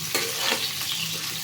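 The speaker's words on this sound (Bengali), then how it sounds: "আলুটা ভাজার সময় সামান্য একটু নুন দেবো, যাতে আলুটা নরম হয়" Potatoes deep frying in oil with salt, a steady close sizzle with a brief stirring scrape near the start, alone without speech.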